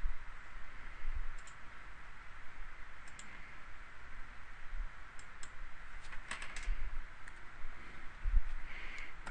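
Sparse computer mouse clicks over a faint steady hum, a few isolated sharp clicks spread irregularly across the span, close and quiet with no talk.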